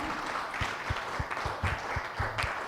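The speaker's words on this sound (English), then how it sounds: "And a round of applause for him, please" Audience applause at a start-up awards ceremony in Kolkata, a steady patter of many hands clapping throughout with a few sharper individual claps standing out.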